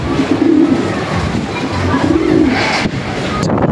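Soft racing pigeon cooing in a couple of low bursts, heard close over heavy wind rumble outdoors in Mindoro.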